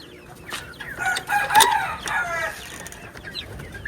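Native chickens in a cage on a farm give a few close clucks and short cackling calls, peaking briefly before fading to quieter scattered clucks.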